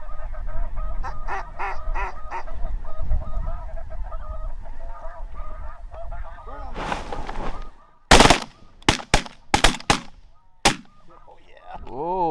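On a cold-front morning duck hunt, many ducks and geese honk and call together in a busy, close chorus, then a volley of loud shotgun blasts cracks out in quick succession.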